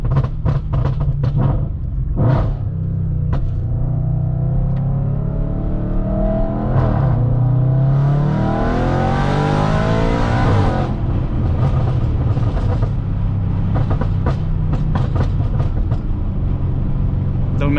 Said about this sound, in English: it already makes crazy pops and bangs